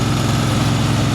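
A 23-horsepower V-twin small engine, either a Kohler Command Pro or a Briggs & Stratton, runs steadily nearby with a low, even drone and no speech over it.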